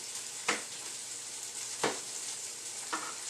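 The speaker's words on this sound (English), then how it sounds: "now stirring occasionally with the onions" Onions frying in a pan for a homemade chicken alfredo, with a steady sizzle broken by three distinct scraping stir strokes spaced about a second apart; no voices.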